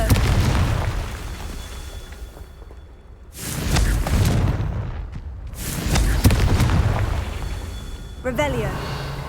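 Confringo blasting spells in Hogwarts Legacy go off as a few heavy booming explosions with rumbling tails, separated by quieter stretches, and a voice is briefly heard among the blasts.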